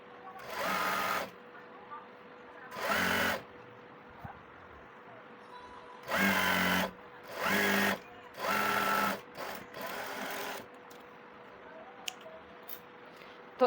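Sewing machine running a half-inch seam on a pajama hem in quick separate bursts with short pauses between them, fairly close and moderately loud, with a faint steady hum underneath.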